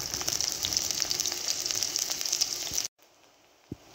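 Onions frying in a pan, a continuous close sizzle and crackle for about three seconds that cuts off abruptly, followed by near silence and a single soft knock.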